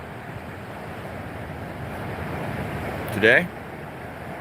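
Ocean surf rolls onto a beach under offshore wind, a steady broad wash of waves and wind rumble against the microphone, with one brief spoken word near the end.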